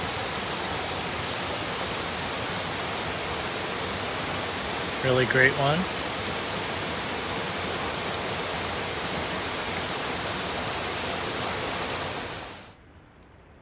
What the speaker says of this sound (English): this is my first pretty good waterfall